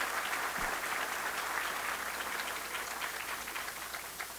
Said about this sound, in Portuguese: solicitamos a todos uma salva de palmas aos nossos patrocinadores e apoiadores aqui registrados